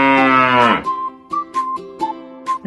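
Cattle (yellow cattle) give a loud, drawn-out moo that fades after under a second, followed by a few short, bright tonal chimes.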